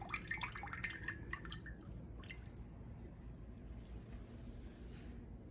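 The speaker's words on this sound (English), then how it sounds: "We'll drain off as much water as possible." Water drains and drips from a bowl of rinsed, starchy sushi rice, a brief burst of trickling and splashing drops at the start that quickly fades to a quiet low hum with occasional faint drips.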